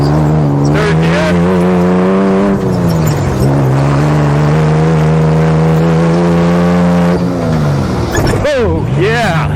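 Subaru Baja driven on a track, its engine droning loudly and steadily from inside the cabin, with pitch shifts as the revs change and brief tire noise, while a person talks over it.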